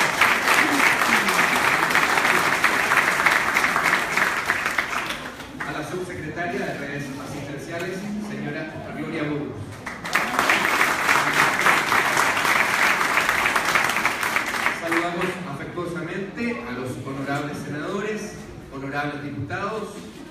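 Audience applauding at a municipal public event in Maipú, Chile, two bursts of loud sustained clapping, each followed by someone speaking over fading claps.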